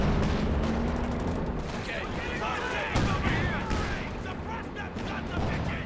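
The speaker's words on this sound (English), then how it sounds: "Now firing off a bunker busting barrage." Bunker-busting artillery barrage in the Company of Heroes 2 strategy game, a rapid run of booming shell impacts and crackling gunfire, with a commentator talking over it.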